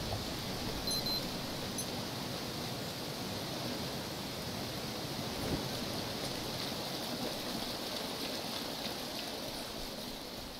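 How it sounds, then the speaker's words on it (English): Rain falls steadily in the survival video game Green Hell, a dense, even patter that stays constant and fairly quiet throughout with no voices. "And Rain, you really, really, really need to stop."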